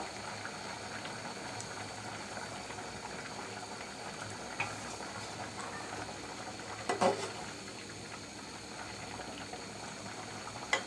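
Potatoes boil in a pot for a Bengali village-style shutki curry, a faint steady bubbling with a couple of brief clinks and no talk.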